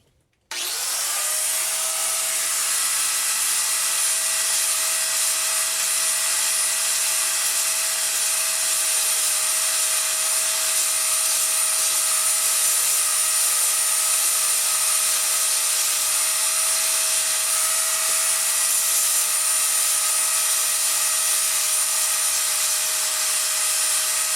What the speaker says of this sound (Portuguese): Aí eu venho na lixadeira de novo só pra tirar aqui o excesso do material